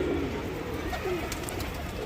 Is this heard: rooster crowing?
no